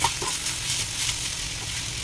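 Raw mango pieces sautéing with turmeric in a pan, a continuous close sizzle with faint stirring scrapes throughout and no talking.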